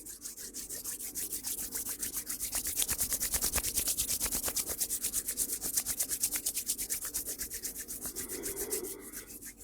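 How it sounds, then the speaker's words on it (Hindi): Two hands rub briskly together in a steady, rhythmic swishing of skin on skin. The strokes are close and fairly loud, and nothing else is heard. "दोनों हाथों को रब करें।"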